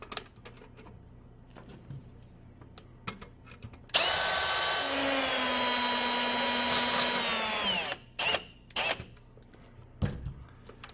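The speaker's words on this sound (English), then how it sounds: "Using the short 832 screws provided, you now can attach the cover plate." Short 8-32 screws driven with a power drill to fasten a cover plate against a ceiling, one steady whirring run of about four seconds, close and loud, with light handling clicks before and after.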